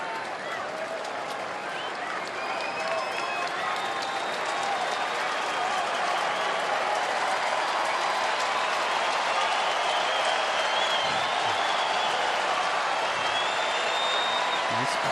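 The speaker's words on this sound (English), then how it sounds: "Crowd is into their Dodgers." Fans in a stadium crowd cheer and clap during a Mets vs Dodgers baseball game, a steady, broad roar of applause that swells slightly and holds for the whole stretch, with faint voices mixed in.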